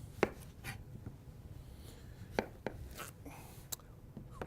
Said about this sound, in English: When you're cutting round vegetables or cylindrical vegetables, it always helps to cut it in half.